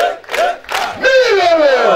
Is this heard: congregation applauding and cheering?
yes